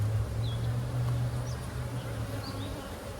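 A dense, steady hum of honey bees clustered in a daisy chain inside a package hive, drawing comb, holds continuously at close range with a few brief higher buzzes from individual bees passing by.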